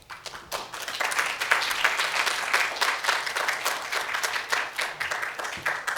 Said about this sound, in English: So big round of applause for Dr. Sam So.